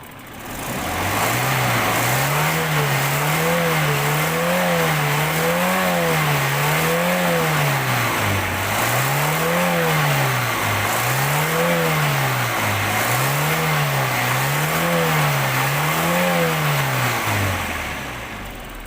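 A used car's engine is revved repeatedly in steady waves, pitch climbing and falling in a regular rise-and-fall pattern, loud and close for nearly twenty seconds with no talking.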